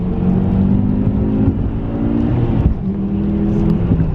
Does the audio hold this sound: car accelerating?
yes